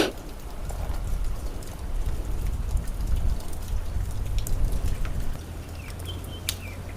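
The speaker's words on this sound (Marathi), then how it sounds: "उन्हात पाऊस येतोय, ऊन पडले असं, आणि इकडं पाऊस पण येतोय" Rain patters steadily on surfaces in a forested village temple setting on a sunny day, a soft continuous hiss with scattered drops and brief bird chirps, no voices.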